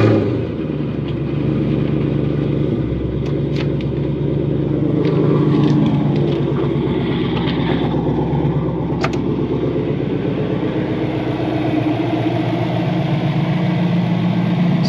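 A 1989 Mustang notchback with a swapped twin-turbo Coyote V8 and 3-inch straight pipes without mufflers idles steadily, a low, even rumble close by with no talk.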